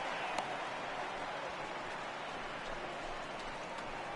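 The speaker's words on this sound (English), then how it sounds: "the conditions aren't ideal with the rain coming down" Rain falling steadily during a baseball game in MLB The Show 18, a constant even hiss of rainfall with no talk.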